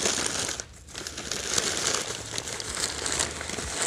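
A plastic bag crinkles and rustles close by during a home DIY project, with irregular crackling handling noise that carries on for several seconds without speech.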